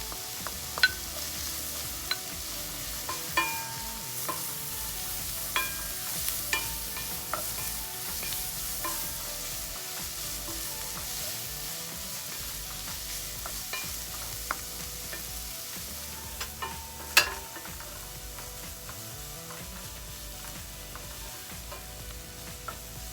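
Chopped fennel bulbs frying in a pan alongside garlic shrimp, a steady, fairly quiet sizzle with occasional scraping stirs and light clicks of a utensil, no voices.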